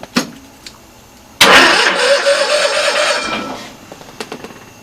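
Car engine cranking on its battery with the charger switched off, a loud sustained churning burst lasting about two seconds after a brief click, then fading to quiet.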